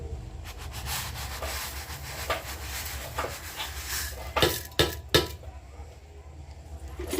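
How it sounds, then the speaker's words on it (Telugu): A lid set onto a cooking pot of sago and vermicelli kheer being made in a home kitchen, a brief scrape and clink of metal after a stretch of steady rubbing noise, close and fairly loud. "మూత పెట్టేసుకుందాం."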